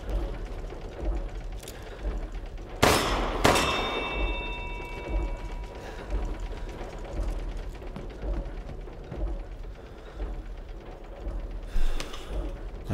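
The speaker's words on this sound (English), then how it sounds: "Let the five bells of this chamber ring out." A heavy bell in a chamber in the Resident Evil Village video game is struck twice in quick succession, its metallic ring decaying slowly over a low, murky ambient drone.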